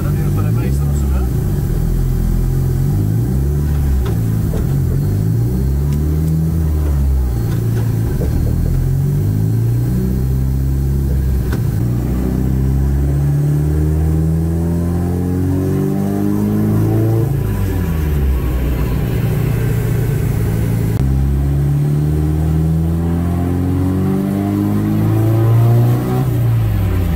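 A tuned SR20 car engine revs repeatedly during test runs, loud and close, with rising and falling pitch sweeps in a cyclic pattern and talking underneath.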